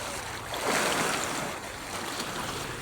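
A boat moving across the Pacific Ocean, with a steady broadband wash of water and waves rushing against the hull, swelling briefly louder in the middle before settling into a constant near roar.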